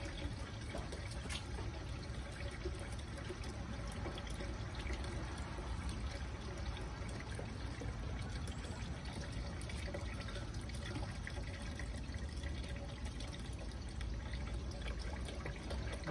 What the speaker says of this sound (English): So I'm going to put the nutrients into the water.